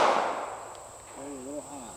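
A single shot from a Ruger LCP2 pocket pistol chambered in .380 cracks loudly at the start on an outdoor range, then decays, followed by a brief voice.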